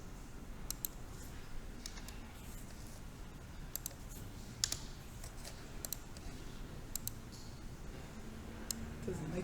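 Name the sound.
typing on a computer keyboard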